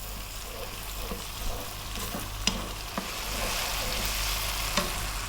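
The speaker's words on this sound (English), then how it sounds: "We're going to cook this just for 3 minutes, stirring all the time." Herbs and dried oregano cook in a pan for a pasta sauce with a loud, constant sizzle. Stirring adds a few faint scrapes and clicks, and nobody speaks.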